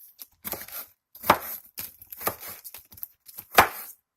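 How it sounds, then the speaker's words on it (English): Several separate chopping strikes at uneven intervals, each a sharp, crunchy knife blow through a whole jackfruit, with quiet pauses between. "And I am just chopping it up."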